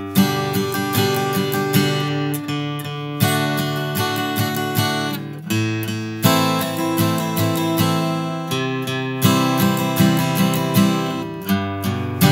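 Acoustic guitar strummed in a steady sixteenth-note pattern, with a bass note on the one and the and, loud and close, repeating for several bars with no voice.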